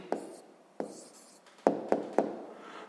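A pen writes an answer to a sixth-grade math exercise on paper, giving soft scratchy strokes broken by five sharp taps or ticks at irregular intervals. The sound is faint and close, and no one speaks.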